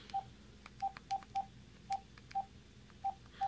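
Eight short beeping keypad tones as a phone number is dialed on a Verizon Moto X, evenly loud and unevenly spaced, clear and close over quiet background hiss.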